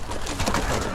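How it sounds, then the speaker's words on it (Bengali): Domestic pigeons coo and stir about while eating at feed, in a home flock kept alongside egg-laying chickens; a brief, close, continuous burst of murmuring with a slightly louder swell midway. "এই হলো যে আমার কবুতর"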